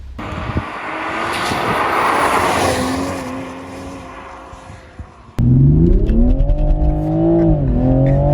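A Toyota Supra MK5 launches hard with wheelspin: after a steady, noisy stretch, the engine suddenly bursts into a loud, close roar that rises and surges in pitch.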